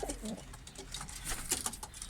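Homing racing pigeons cooing softly in a loft, low murmuring coos blending with faint rustling and scattered small noises throughout.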